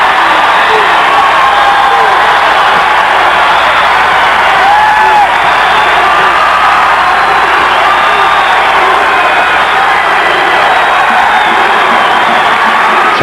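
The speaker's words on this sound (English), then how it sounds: "Listen to the crowd." Arena crowd at a 1986 Bradley Braves versus Wichita State Shockers college basketball game roars with sustained cheering and whoops, loud and dense throughout, with a commentator's voice faintly underneath.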